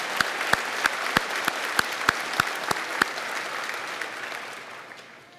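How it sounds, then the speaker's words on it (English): Audience applause at a high school graduation ceremony, a crowd clapping steadily for several seconds with sharp individual claps standing out early, then slowly fading toward the end. "So let's give them a round of applause."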